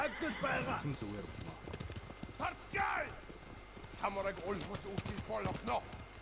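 Horses with clip-clopping hooves in the Ghost of Tsushima video game, a rapid uneven patter of hoof beats under voices speaking over it, with an occasional whinny.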